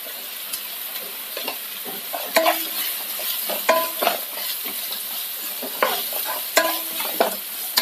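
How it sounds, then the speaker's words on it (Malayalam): Curry leaves, garlic and ginger sauté in a hot pan with a steady sizzle, while a spoon scrapes and stirs in irregular, close strokes. "ഇതൊന്ന് നന്നായിട്ടൊന്ന് വഴറ്റിയെടുക്കണം."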